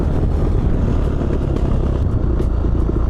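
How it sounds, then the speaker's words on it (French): Badly running motorcycle engine, stuttering and rough, with backfires from the exhaust; a loud, continuous low rumble close by with uneven popping bursts throughout. "ma moto qui broute, qui fait des retours de flammes énormes"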